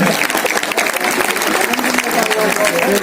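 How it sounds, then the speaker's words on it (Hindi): Sustained applause from the audience at a mushaira poetry recital in Panchkula, Haryana, steady dense clapping filling the room with voices mixed in underneath. "के लिए तालियां बजा दीजिए कि वो आना दहलवी के लिए रुक गए।"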